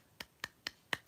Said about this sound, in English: I'm going to give myself a clap for that one.